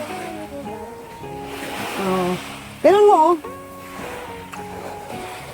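Ocean waves wash steadily on a beach shore at moderate loudness, with people talking and exclaiming over the surf throughout.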